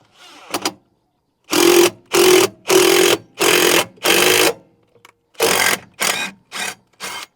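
An impact gun fires in a series of short, loud, buzzing bursts with brief gaps between them, driving screws that press a brake drum off its hub. The sound is close and harsh, with a few softer taps in between.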